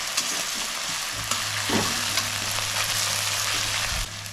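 A paste of onion, ginger, garlic and green chili fries in a pan for a Bengali-style crab curry, a continuous close sizzle with occasional stirring scrapes and a low hum running under most of it.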